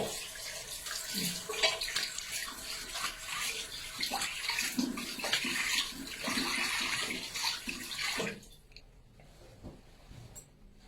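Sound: rinsing off egg white whip facial foam with water

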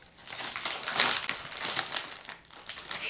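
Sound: ripping open an Oreo cookie package

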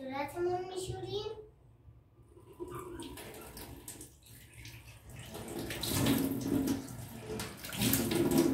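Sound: tap water running while washing the face

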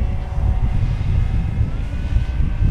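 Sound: FMS Corsair 1700mm RC model airplane taking off

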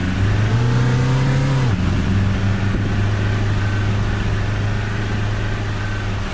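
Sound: BB40 minibus engine driving in Tourist Bus Simulator video game

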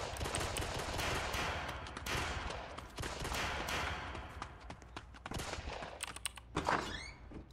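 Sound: gunfire in Roblox video game

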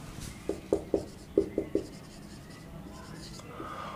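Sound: writing by hand

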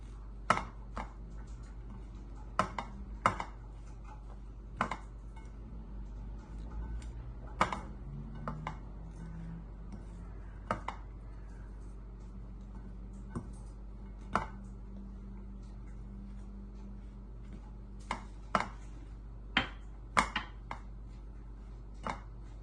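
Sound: stirring powdered sugar and coconut into cake crumbs in a bowl

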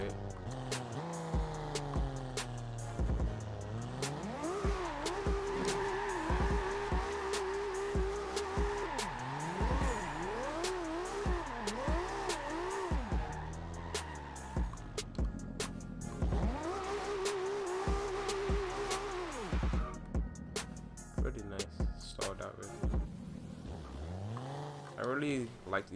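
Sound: 2JZ-swapped Subaru BRZ engine in Forza Horizon 2 video game

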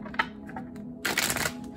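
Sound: shuffling tarot cards

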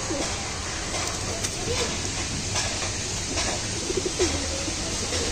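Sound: pigeons cooing in a loft

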